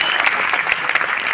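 An audience at a product presentation breaks into dense, loud applause, a continuous close wash of clapping hands with no pauses.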